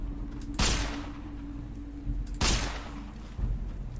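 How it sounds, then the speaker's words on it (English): Gunshots in the video game Fallout: New Vegas, three separate heavy blasts spaced a second or two apart, each with a short booming decay over a steady low hum of game ambience. "Okay, I'm shooting them."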